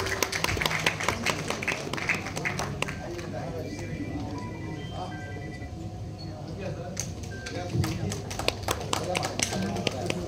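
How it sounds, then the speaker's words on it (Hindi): An audience at a Bollywood iconic award ceremony claps and applauds steadily throughout, a dense patter of hands under a speaker's amplified voice. "जोरदार तालियां प्लीज।"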